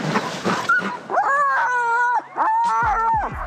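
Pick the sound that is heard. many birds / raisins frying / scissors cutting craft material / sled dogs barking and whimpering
sled dogs barking and whimpering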